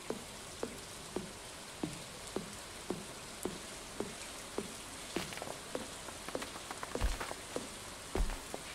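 Steady rain patters down in Stardew Valley, a soft continuous hiss of drops with a regular series of sharp chopping knocks over it and a few louder thuds near the end, with no talking.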